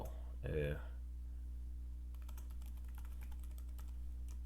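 Someone types a message on a computer keyboard: rapid, close key clicks in an uneven stream after a brief voice, over a steady low hum.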